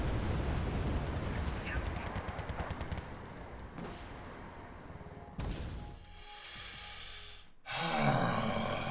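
Bombs explode in a Wargame AirLand Battle match, with rumbling gunfire and blasts early and a couple of heavy, loud booms near the end, while a voice talks over the action.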